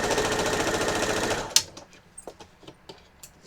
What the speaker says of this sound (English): I'm going to free that one by sewing one of these rows.